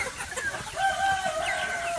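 Tiger-breed chickens and roosters kept for sale cluck and crow nearby in a brief, busy burst of fowl calls, one drawn-out crow standing out over the rest.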